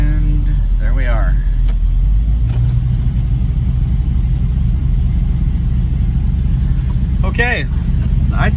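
A car creeps into a home garage with a low, steady engine rumble close by, a voice speaking briefly over it at the start and near the end.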